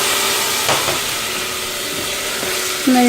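A medium tomato drops into a hot pan of potato-cauliflower curry and sets off a steady, close hissing sizzle. A brief tonal whine rises near the end, and no one speaks.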